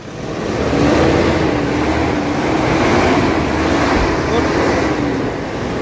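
A Toyota Innova Crysta engine with poor pickup and a turbo that isn't building boost is revved hard, a loud, close roar that swells and wavers in pitch for several seconds.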